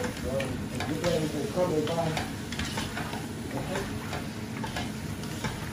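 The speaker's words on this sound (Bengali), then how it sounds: "এখন ভালো করে নাড়াচাড়া করি এখন ভালো করে এটা কুক হইতে থাকুক" Sylheti village-style akhni stirred in a pan, a steady sizzle with continuous scraping and clinking of the spoon, close and fairly loud, with a voice murmuring faintly underneath.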